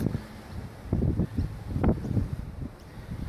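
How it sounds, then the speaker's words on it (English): Wind gusting at a camp at Mission Point on Bribie Island, low rumbling buffets against the microphone rising and falling in uneven bursts, fairly close and moderately loud. "hopefully you can hear me over that wind"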